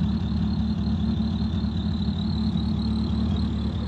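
A Renault Clio 2 RS track car idles steadily, a constant low engine rumble with an even hum, close and alone with no voices.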